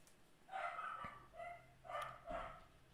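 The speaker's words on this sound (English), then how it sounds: "The dog is going to be quieting down in a little while." An indoor dog barks a few times, short yips spaced through a couple of seconds, muffled and fairly quiet as if from another room.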